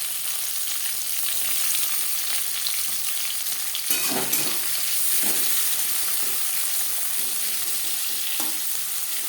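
Onions hiss and crackle in refined oil in a wok, a steady close sizzle broken by a few spatula stirs and scrapes, with no voices.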